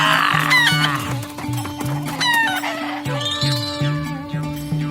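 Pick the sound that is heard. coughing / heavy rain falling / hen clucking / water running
hen clucking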